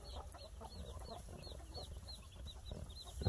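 Chickens cluck repeatedly in short, chattering bursts at moderate distance, with a low background rumble and no talking.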